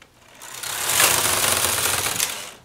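A knitting machine carriage sweeps across for rows of scalloped ribbing, making a loud rasping, clattering whoosh that swells and then fades in one continuous pass, with no voices.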